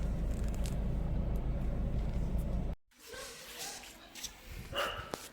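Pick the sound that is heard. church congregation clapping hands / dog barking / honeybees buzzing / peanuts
dog barking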